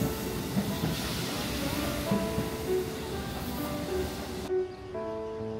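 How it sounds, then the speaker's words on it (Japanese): A Hanshin express train rumbles and hisses as it pulls away from Mikage Station, steady rolling noise fading before a sudden drop to quieter surroundings. "乗車してきた特急をお見送りしました。"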